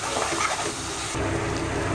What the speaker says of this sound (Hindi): अब इसमें हम आधा कप पानी डाल लेंगे।